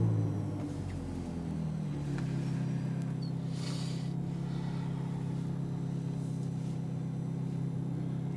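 A Ferrari F430 engine idles steadily with a deep, even rumble at a Speed Vegas track, holding a constant low drone close by with no talk.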